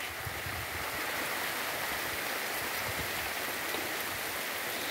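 Heavy rain pours steadily in Itabaiana, Sergipe, a dense, continuous roar of drops on surfaces with no pauses, loud and close throughout.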